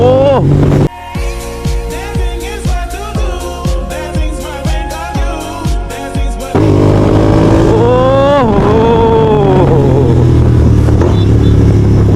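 A Royal Enfield GT 650 motorcycle with its exhaust removed blips its throttle in a loud, rhythmic series of revs, then settles into a sustained raw roar that rises and falls in pitch.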